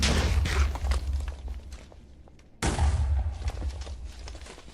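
Two explosions go off while netherite is mined in the Minecraft video game, each a loud deep boom followed by a rumbling tail, spaced a few seconds apart.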